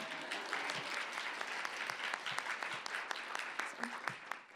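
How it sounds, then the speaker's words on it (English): Applause from a student awards crowd for a first-place speech and debate team, soft, steady clapping that sounds somewhat distant, holding evenly before tapering at the end, with a murmur of voices beneath. "We can clap for that first place"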